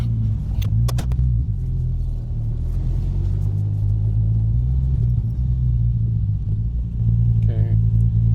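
A Triumph TR6 converted from carburettors to fuel injection rumbles along close up from inside the cabin, a deep steady drone with slight swells in engine note.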